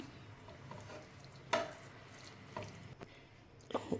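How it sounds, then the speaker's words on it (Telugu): A spoon works through grated radish curry in a pan, giving quiet, soft squishing and scraping with a few sharper clinks, low and close. "మొత్తం అంతా ఇలా కలిపేసుకోవాలి అంతా"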